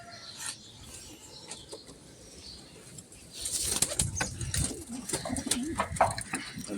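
Pet pigeons at a loft give soft repeated coos, close and quiet at first, then a burst of wing flapping and shuffling grows louder in the second half.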